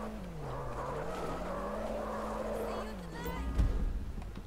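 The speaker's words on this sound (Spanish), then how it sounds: "Escuchaba un coche por ahí ronronar." A car engine hums in GTA V with a steady, low, faint note that wavers gently, then ends in a brief screech of tires, while people talk over it.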